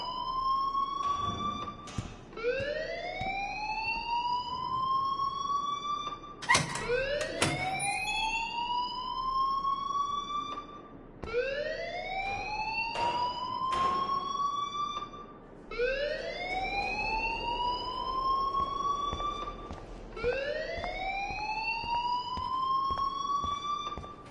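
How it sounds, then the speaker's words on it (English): A video game alarm wails over and over, each cycle a rising siren tone that climbs and then cuts off. Five or so cycles repeat steadily and loudly, with occasional sharp clicks between them. "please turn off that alarm since that's your job"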